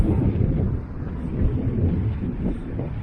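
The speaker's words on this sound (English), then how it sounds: "Wow, it is windy down here." Strong wind roars and buffets the microphone on beach dunes at Blackpool in a continuous low rumble, gusting slightly louder at moments, with no voices.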